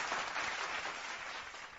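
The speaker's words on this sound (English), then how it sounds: "Give them another one. We'll give them two." Continued crowd applause celebrating the NBA champion Denver Nuggets, a thick, even clapping texture that stays strong and then tapers slightly toward the end.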